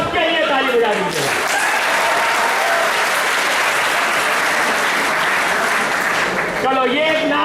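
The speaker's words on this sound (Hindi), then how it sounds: "सबके लिए ताली बजा दीजिए" Loud, sustained audience applause at an old students' association gathering of a Delhi college, dense clapping filling the hall for several seconds, with faint speech and voices at the start and end.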